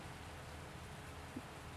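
Steady rain from Farming Simulator 19 on Spectacle Island, a constant soft wash of broadband noise with no distinct drops or voices throughout.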